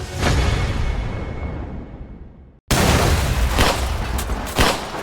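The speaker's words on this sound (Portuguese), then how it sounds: "Após a explosão, foi possível escutar 4 tiros." A loud blast-like burst from an explosion during a police raid on an apartment cuts off abruptly, then after a brief gap comes a second noisy stretch with four sharp gunshot cracks.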